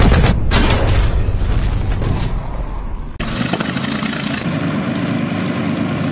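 Loud, continuous roar of German Luftwaffe bomber engines in a WWII air raid, with a deep rumble, shifting abruptly midway to a steadier droning tone.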